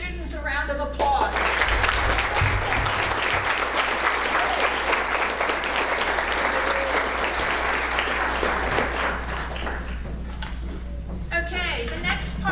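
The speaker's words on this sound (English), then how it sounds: "Let's give these students a round of applause." A school audience applauds students after a band concert, with sustained, dense clapping from a full crowd lasting several seconds before tapering off, and brief voices at the edges.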